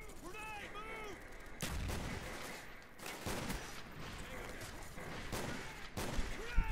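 Heavy gunfire and explosive blasts from the video game Call of Duty: Black Ops pound in repeated loud bursts, with booming impacts and faint in-game voices and effects in between.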